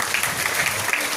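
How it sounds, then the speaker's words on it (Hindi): An audience at a Bhagwat Katha religious discourse claps together, a dense burst of brisk applause heard close and steady for about a second. "ताली हो जाए"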